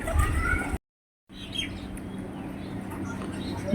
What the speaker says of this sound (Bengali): বাতাবি লেবুর গাছের উপর কত সুন্দর বসে আছে পায়রাগুলো